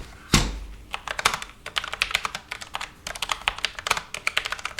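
Typing on a Logitech MX Mechanical Mini keyboard: a close, steady run of crisp key clicks with a louder thump near the start, heard alone without any voices.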